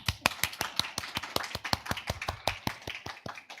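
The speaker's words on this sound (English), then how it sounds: "So let's give them a round of applause." Audience applause for a panel of experts at an environmental innovation challenge, a small group clapping in a brisk, fairly even rhythm of distinct claps, close and without voices.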